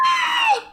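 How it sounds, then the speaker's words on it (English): A sudden, short, high-pitched scream from a reader, loud and close, sustained briefly before cutting off. "I didn't expect that scream to come out of me, honestly"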